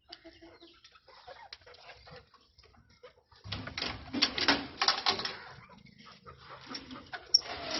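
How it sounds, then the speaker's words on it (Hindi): Chickens cluck and scratch as they come out of a cage, soft scattered calls at first, then a busier, louder burst of clucking and fluttering from several birds nearby. "ये आप देखें मुर्गियां कैसे निकल रही हैं।"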